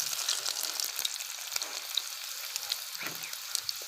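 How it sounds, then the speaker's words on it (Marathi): Garlic frying in hot oil with popping mustard seeds and cumin for a winter eggplant bhaji: continuous close sizzle with scattered crackles and pops, no talking. "टाकले मोहरी आणि जिरे झाले आता लसूण टाकला"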